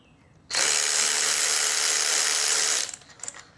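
A power tool whirs loudly and steadily for a couple of seconds as it backs out exhaust manifold bolts on a used inline six engine for a 1967 Mustang, then stops abruptly into quiet clatter.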